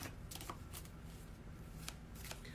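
Tarot cards being shuffled by hand before a three-card reading, a steady run of soft riffling and slapping bursts that keeps going throughout, close and fairly quiet, with no talking.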